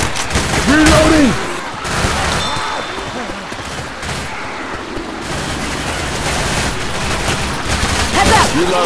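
Gunfire in the zombie shooter Left 4 Dead, a dense, steady fusillade of shots running the whole time, with voices calling out over it.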